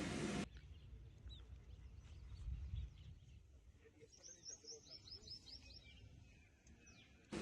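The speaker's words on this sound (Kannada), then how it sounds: "ಬರ್ಡ್ಸ್ ಚಿರ್ಪಿಂಗ್ ಸೌಂಡ್ ಎಲ್ಲ ಎಷ್ಟು ಚೆನ್ನಾಗಿ ಕೇಳಿಸ್ತಿದೆ ಅಲ್ವಾ" Birds chirp and tweet in a resort garden in Bangalore, with a quick run of high repeated notes in the middle and scattered calls over a quiet, low outdoor hum, with no talk.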